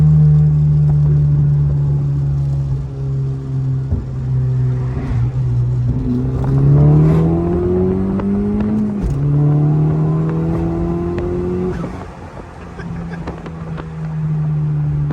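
A 10th-generation car with an Ark Performance exhaust revving close by: a deep steady rumble rising through several throttle blips, dropping back between them, with some wind noise over the microphone.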